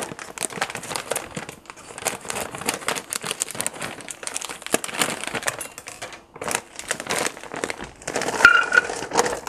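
A plastic bag of cocktail meatballs crinkles and crackles steadily as it is emptied into a crock pot, close and continuous, with the frozen meatballs tumbling out in irregular bursts and no talking.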